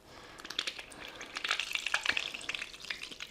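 Wet, sticky stirring of a thick mayonnaise mixture seasoned with salt and pepper in a bowl, a steady run of soft squelches and scrapes close by, with no talking.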